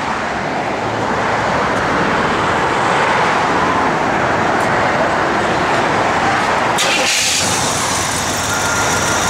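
A 1986 Chevrolet Monte Carlo SS engine runs with a loud, steady, broadband rumble close by, holding an even level throughout with a brief clunk near the end.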